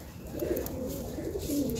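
Pigeons coo steadily in a loft as two male birds fight, with a low, rolling, continuous cooing close by and no talk.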